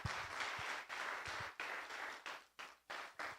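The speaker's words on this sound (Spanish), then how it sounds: "Vamos a darle un aplauso y vamos a ponernos de pie" A church congregation applauds during a live Spanish-language worship service, a broad wash of clapping that swells and breaks into several rhythmic bursts, at moderate distance with no talking.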